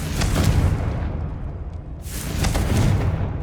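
Confringo blasting spell in the video game Hogwarts Legacy, two loud booming explosive bursts in quick succession with a rumbling roar that briefly dips between them.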